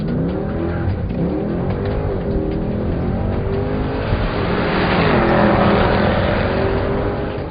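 A powerful 6.2-liter sports sedan engine roars steadily, revving higher and swelling louder midway, loud and close with no talking.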